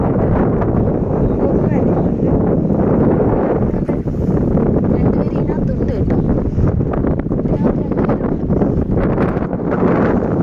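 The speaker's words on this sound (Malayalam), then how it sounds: "നല്ല കാറ്റുണ്ട്." Strong, gusty wind buffets the microphone in a steady roar throughout, outdoors during a stormy, flood-hit spell, with a voice talking over it.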